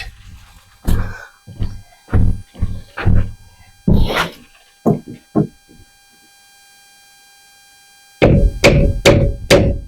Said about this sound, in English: Where's the hammer at? All right. There's the hammer.